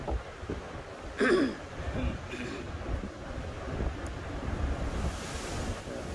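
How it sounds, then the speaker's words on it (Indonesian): Ocean waves seen from the deck of the NCL Gem cruise ship on a transatlantic crossing, a continuous broadband wash of surf mixed with strong wind buffeting the microphone, with a brief knock early on. "Inilah ombaknya, lihat ombak."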